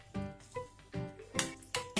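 Water coming to a boil in a pan with sautéed onions for semiya upma: bursts of bubbling and sizzling pop up in uneven clusters, close and fairly quiet, with no talking.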